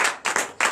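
Congregation at a Saturday morning prayer service in Benin clapping in acclamation, three quick bursts of clapping close together, sharp and fairly loud.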